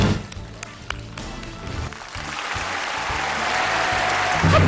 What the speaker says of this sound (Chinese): 掌声鼓励一下好吗？